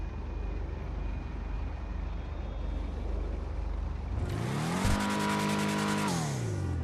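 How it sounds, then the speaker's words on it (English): In GTA Online, the Schyster Deviant muscle car idles with a low rumble, then its engine revs up hard, the pitch climbing and holding loud before settling, with no talking. "It's not the loudest muscle car."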